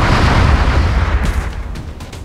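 A single loud gunshot from a soldier's weapon in the XCOM game, a heavy booming blast that lingers with a rumbling low tail and fades slowly, with no talking.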